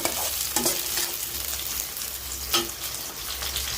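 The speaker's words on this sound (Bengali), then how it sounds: "এখানে হলো মটরশুঁটি ভর্তা করার জন্য পেঁয়াজ রসুন তো মরিচ দিয়ে হালকা করে একটু ভেজে নেব" Onion, garlic and chili sizzle steadily in a hot pan with oil, with a couple of sharper stirring scrapes standing out against the continuous frying hiss; no one speaks.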